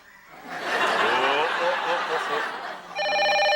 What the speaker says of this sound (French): c'est la sonnerie